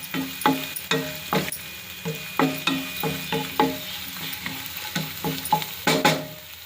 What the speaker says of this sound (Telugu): ఇలా అల్లం వెల్లుల్లి పేస్ట్ బాగా వేగాక పావు స్పూన్ పసుపు వేసుకొని బాగా కలుపుకోవాలి